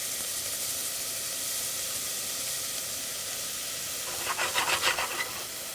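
Onion sautéing in a pan while butternut squash soup is being made gives a steady close sizzle and hiss. Brief stirring scrapes come near the end, and no one talks.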